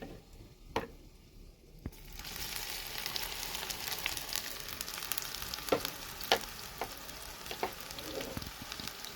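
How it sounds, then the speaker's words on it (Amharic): Soya chunks frying in hot oil in a pan, browning in a home kitchen; after a quiet start, a dense continuous sizzle rises and holds, broken by sharp crackling pops and spatters close by. "ብራውን እስከሚሆን ድረስ እንደዚህ መጥበስ፣ እንደዚህ ጥብስ ማድረግ።"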